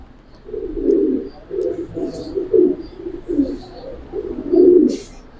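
A pair of Giribaz pigeons coo in a steady series of low, rounded pulses, close and fairly loud, rising and falling with short gaps between calls and no talking.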